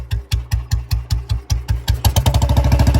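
A Royal Enfield Bullet BS3 single-cylinder motorcycle idling up close: slow, heavy, evenly spaced thumps that then quicken into a faster, tighter beat as the throttle is blipped, loud and alone.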